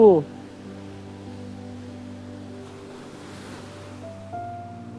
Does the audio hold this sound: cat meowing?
no